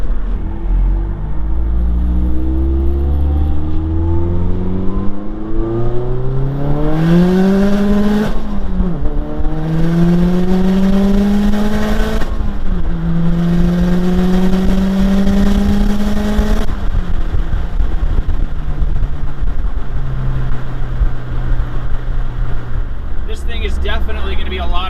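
Mazdaspeed 3 with a big BNR S5 turbo at 25 psi pulling hard through several gears, engine rising in pitch with brief dips at shifts, loud and close from inside the car.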